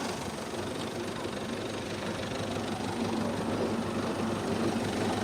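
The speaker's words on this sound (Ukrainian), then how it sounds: "крутяться всі цепочки, вали" Chains and shafts of a UPS-8 seed drill turn in a steady, continuous mechanical rumble with a dense rattling texture at moderate distance, with no talk.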